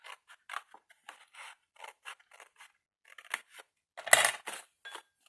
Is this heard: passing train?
no